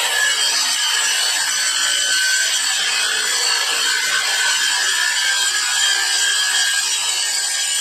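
A saw cuts steadily through a quarter-inch quarter sheet of plywood for a barnwood frame, a loud, continuous rasping drone that runs unbroken from start to finish with no talking.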